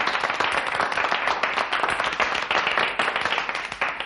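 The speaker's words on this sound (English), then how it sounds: "Gentlemen, thank you for your generous applause" Audience applause in an old-time radio drama: dense, continuous clapping from a crowd of gentlemen, loud and sustained throughout with no voices over it.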